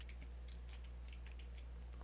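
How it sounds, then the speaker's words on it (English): Light, quick clicking of a computer keyboard while account login details are entered, soft and close over a steady low hum, with no voices. "I'm typing in my account information"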